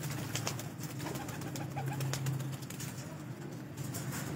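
A Kamgar breeder pigeon on a rooftop gives low, soft coos that swell and fade over a steady outdoor background, with faint bird sounds around and no speech.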